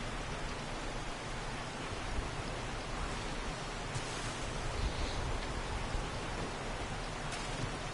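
Steady rain falling in the game 7 Days to Die, a dense, even hiss that continues unbroken and fairly quiet throughout.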